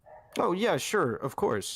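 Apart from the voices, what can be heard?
dog barking in the background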